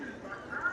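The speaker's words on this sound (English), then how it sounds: "The crows that you hear are actual crows. They are flying around right now." Crows cawing overhead at Disneyland at night, their harsh, honking calls carrying loud and steady through the air over a continuous background din.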